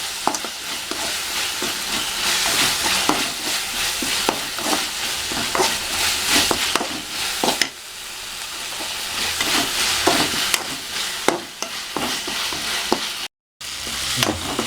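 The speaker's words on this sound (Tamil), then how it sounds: "வதக்குங்க கொஞ்சம் பச்சை ஸ்மெல் போகிற வரைக்கும்" Turmeric, chilli and garam masala sizzle in a hot pan as a spatula stirs and scrapes them in repeated strokes, with steady frying noise and a brief dropout near the end.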